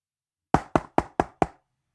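Five sharp knocks on a door in quick, even succession, close and loud against silence.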